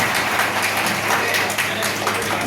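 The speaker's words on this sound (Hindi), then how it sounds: "अभी मुख्यमंत्री जी का स्वागत करें तालियों से" An audience at a teachers' honour ceremony in Amethi applauds the Chief Minister with steady, dense clapping that carries on unbroken throughout.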